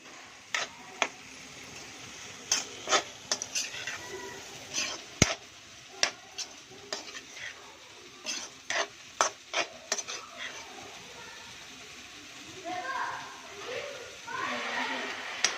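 Green eggplant with coriander stir-frying in oil over a low flame: sparse, sharp spatula clicks and scrapes against the pan above a quiet, steady background, with a soft hiss of sizzle building near the end.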